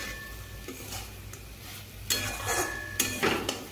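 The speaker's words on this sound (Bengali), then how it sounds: "আর একটু আমি ভেজে নেব।" Red amaranth greens are fried and stirred in a pan, with a soft sizzle underneath and several scraping, clattering strokes of a spatula against the metal in short bursts.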